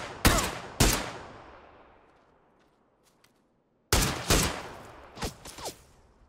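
Sharp gunshots ring out in PUBG on console, a pair of loud reports with long fading echoes, then after a lull another cluster of close, punchy shots.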